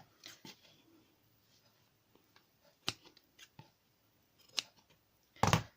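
Large scissors cutting fabric while a dress on a hanger is being made. Several scattered, quiet snips sound close by, ending in a louder, sharper cut.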